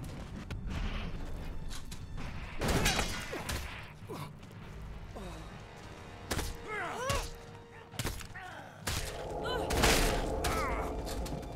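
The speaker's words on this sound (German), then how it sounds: "Da ist eine Granate gelandet." A grenade lands and detonates in the Elex 2 video game, giving several sharp, loud broadband blasts and thuds spread across a busy combat scene with other clatter between them.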